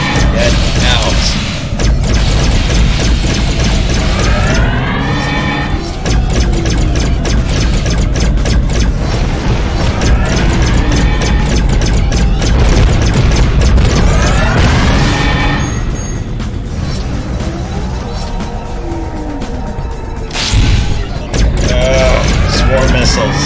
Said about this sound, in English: Swarm missiles. Bloody hate them.